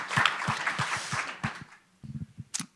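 An audience at a film talk applauds, with clapping and a general crowd wash that thins out partway through into a few scattered claps.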